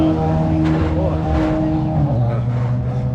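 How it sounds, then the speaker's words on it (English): Road traffic rolling past an outdoor pizzeria in Kernville, with engine hum and passing vehicles steady and fairly loud throughout, a couple of passes swelling and fading, while people talk over it. "Right now we're just chilling out, watching the traffic go by."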